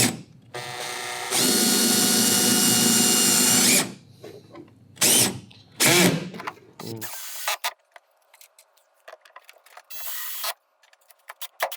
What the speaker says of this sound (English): I'm going to do the screw on the opposite corner now.